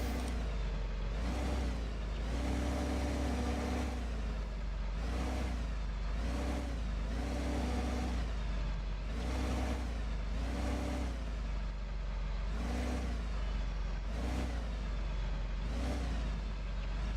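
A John Deere 8400 tractor engine drones in Farming Simulator 15 during potato work, a loud steady rumble pulsing in regular surges roughly every second, with no talking.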